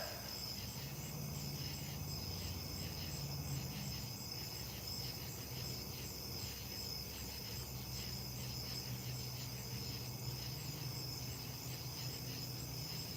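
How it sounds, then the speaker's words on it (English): Crickets chirping at night, a dense steady trill continuing without a break, soft and even throughout, with no voices. "I'm just listening to the crickets right now."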